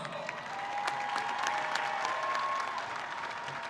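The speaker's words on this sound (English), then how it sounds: "Let's give these students a big round of applause." Steady audience applause at a high school graduation ceremony, many hands clapping at moderate distance in a large space, continuous and even, with a faint tonal whistle threading through the crowd noise.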